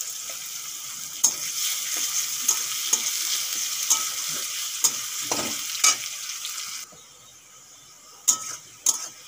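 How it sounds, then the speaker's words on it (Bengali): Onion, ginger and garlic frying in oil with a bay leaf in a pan for potato egg curry, a steady hiss broken by regular clicks and scrapes of stirring, dropping quieter near the end before a few more stirs. "পেঁয়াজ আদা রসুন ভালো করে ভাজা হয়ে গেছে"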